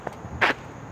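A single sharp, crisp crack of a golf ball being struck, short and bright against a steady outdoor background hum.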